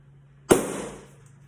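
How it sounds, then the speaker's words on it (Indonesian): An empty balloon held over a candle flame bursts with one sudden sharp bang, close and loud, leaving a short decaying tail in a quiet room. "apa yang akan terjadi kalau balon kosong ini saya bakar di atas lilin"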